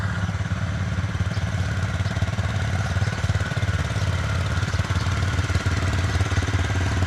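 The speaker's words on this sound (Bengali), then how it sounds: "বাইকগুলো অলরেডি কোল্ড স্টার্টে দিয়ে দিয়েছি" Motorcycles idling after a cold start on a cold December morning while their engines warm up, a steady low throbbing rumble with a fast pulsing beat that runs continuously nearby.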